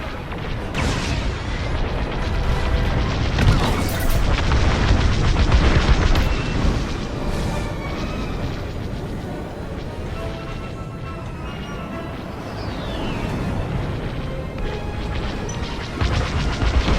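Heavy explosions and cannon fire as a Kazanti cruiser is destroyed in Star Wars Squadrons, a loud continuous barrage of booms, crashes and rumbling blasts that dominates throughout.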